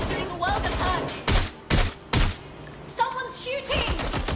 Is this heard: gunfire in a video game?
yes